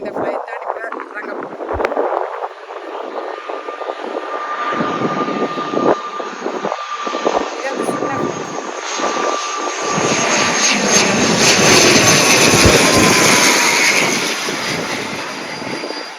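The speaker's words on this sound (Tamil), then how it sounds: "இந்த ஃப்ளைட் தான் இறங்க" An airplane comes in to land near Lanzarote airport, its broad jet roar building steadily and peaking loud and close toward the end, heard from a rickshaw ride with people talking over it.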